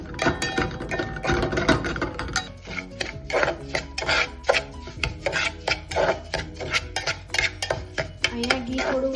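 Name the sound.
semolina being roasted and stirred in ghee in pan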